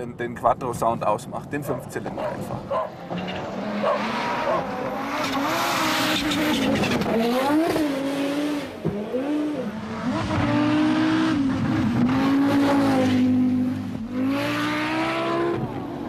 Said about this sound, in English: It's the roar of the Quattro's 5 cylinders.